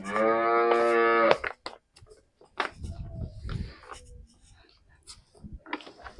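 A cow lets out one long, loud moo at the start, followed by quiet rustling and faint scattered sounds.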